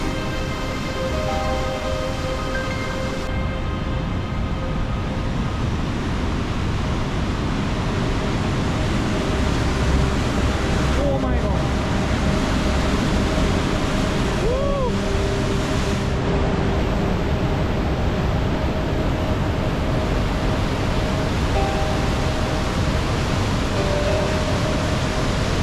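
Water in Maligne Canyon near Jasper, Alberta, rushes in a constant loud roar that holds steady throughout, with faint tonal background sounds drifting in and out.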